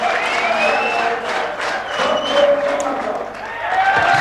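A crowd at a strongman event cheers and applauds loudly and continuously, with shouts and whistles rising and falling throughout.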